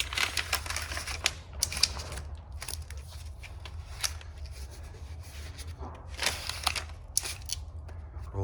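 Adhesive tape pulled off a roll during airtightness taping on a passive house build, heard as a series of crackly, tearing rips in bursts with pauses, fairly close and alone over a low steady hum.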